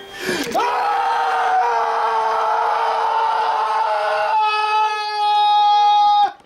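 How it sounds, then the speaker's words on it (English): Several people scream together on cue, a long sustained shriek held for about five seconds, then rising to a louder final burst before cutting off abruptly. "Okay, now scream."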